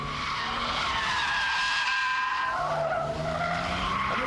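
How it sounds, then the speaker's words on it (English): A car power slides with too little throttle and straightens up, tires skidding and squealing steadily under a constant engine drone for the whole stretch. "We're happily power sliding, but too little power, and it straightens up and goes the other way."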